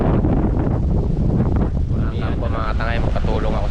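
A strong northeast monsoon wind, the amihan, buffets the microphone in a loud, continuous rushing roar, while a voice speaks faintly beneath it.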